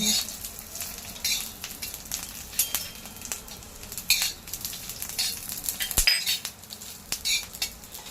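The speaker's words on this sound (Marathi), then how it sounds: "भाजून घेऊया त्याच्यावर लसूण सुद्धा भाजला आहे बघा" Garlic, curry leaves and ridge gourd peels dry-roasting in a pan for chutney, with crackling sizzle, frequent spatula scrapes and metallic clinks against the pan throughout.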